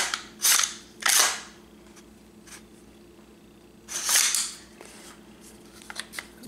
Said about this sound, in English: Then clear the gun.